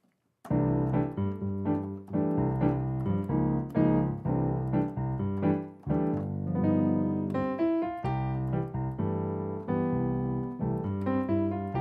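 Piano playing a sequence of rich jazz chords, a short harmonic turnaround with sustained voicings and moving upper notes, solo and close.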